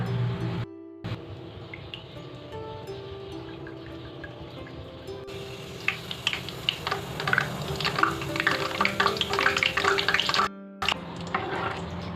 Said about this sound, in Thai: ก็ตั้งกระทะเดี๋ยวเราก็จะเอาปลาลงทอดเลยนะคะ